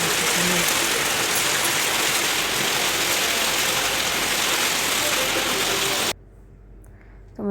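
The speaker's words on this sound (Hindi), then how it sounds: "तो देखिए लखनऊ में हमारा कितनी बारिश हो रही है।" Heavy monsoon rain falls in Lucknow, India, a loud dense roar of water pouring down close by that continues without pause, then cuts off abruptly near the end.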